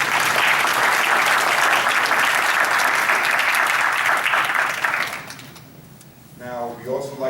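Audience at a panel conversation gives a warm round of applause, loud and dense clapping for about five seconds before fading, followed by a voice starting to speak.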